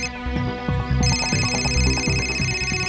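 A phone ringtone plays a repeating electronic melody, loud and close, for a few seconds.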